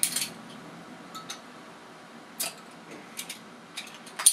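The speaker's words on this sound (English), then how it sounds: "Let's get this thing uncapped and get it into this stained glass." A bottle of Jack's Abby Numb Swagger black lager is uncapped with a few faint metallic clicks and short, sharp bursts of hiss in a quiet room, with no talking.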